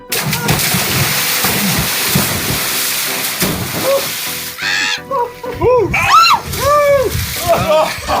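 People jump into cold water with loud splashes and churning spray, followed by shrieks and excited shouting.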